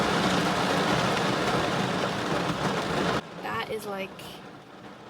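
Heavy torrential rain roars loudly and steadily, then cuts away abruptly as a person starts talking over quieter background.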